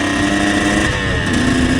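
A two-stroke motorcycle engine runs continuously on a street ride, a loud, steady buzzing drone with a raspy edge, close to the listener, holding a fairly even pitch.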